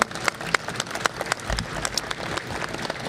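Audience applause at the 2017 New York Boat Show, a scattered round of clapping from a crowd, moderately loud and steady for a few seconds with sharp individual claps standing out.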